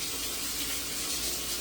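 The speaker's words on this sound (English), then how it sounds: "I'm going to rinse this russet potato off." Water runs steadily from a kitchen tap as a russet potato is rinsed under it. The flow is close and continuous, with no talking.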